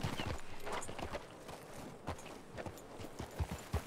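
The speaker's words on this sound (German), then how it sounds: "Mensch, Pferd. Süß, wie er da trappelt." Horse hooves trotting in a clear clip-clop rhythm, a run of sharp close hoofbeats that grows more distinct toward the end, with no talk over it.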